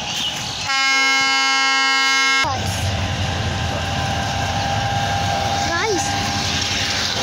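At a railway station, a train sounds a long, loud, steady horn blast, then the heavy rumble of passing rail cars continues with a brief squeal, while voices murmur in the background.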